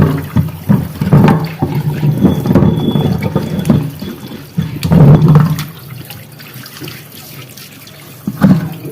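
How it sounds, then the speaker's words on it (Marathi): A new stone mortar and pestle is rinsed under a running tap, with water splashing and gushing unevenly in surges as it is scrubbed by hand, loud and close, with no talk. "हा स्वच्छ नळाखाली धुवून घ्यायचा आहे।"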